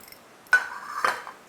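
Fennel seeds drop into a dry frying pan, landing in two quick scattered bursts of light clinks and patters, close and fairly clear with no talk.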